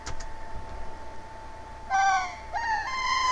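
Synthesized bird calls from the Chrono Trigger video game intro, a few clear whistling chirps that slide in pitch, arriving after a steady faint tone.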